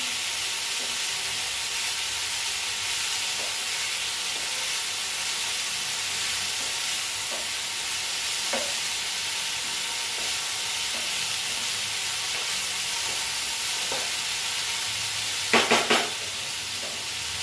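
Drumstick leaf vegetable mixture cooking in a pan, a constant broad sizzling hiss with soft scraping stirs scattered throughout and a brief louder clatter near the end, close and steady with no talking.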